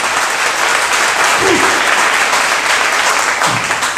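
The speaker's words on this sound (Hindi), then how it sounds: "एक अच्छी ताली प्रभु के लिए," Church congregation giving loud sustained applause, a dense even wash of clapping throughout with a faint voice briefly audible beneath.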